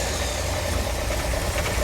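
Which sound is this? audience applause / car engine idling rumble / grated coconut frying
car engine idling rumble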